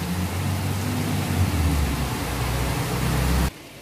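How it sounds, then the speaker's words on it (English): Heavy rain pours in a dense, even roar of broadband hiss that stays loud and constant, then cuts off abruptly near the end. "you can see it's raining so, so badly"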